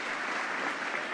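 A rowdy crowd at a J.D. Vance event in Bangor, Maine claps and cheers in a dense, continuous burst of applause that fills the room without pause.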